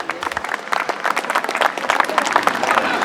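Spectators, marshals and fellow competitors applauding at the 2007 Shelsley Walsh British Speed Hillclimb Championship, steady outdoor clapping from a crowd, fairly close and continuous.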